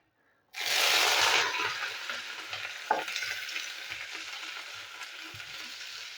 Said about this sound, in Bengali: আমি বরবটিগুলো ভেজে নেবো।